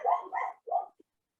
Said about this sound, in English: is this your dog?